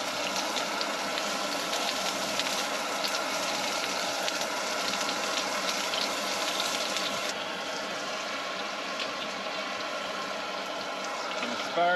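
Garlic butter sizzles in a pan at a wild camp inside a shooting hut, a steady, close, hissing crackle with a slight drop in brightness partway through and no voices.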